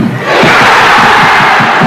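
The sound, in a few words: football stadium crowd cheering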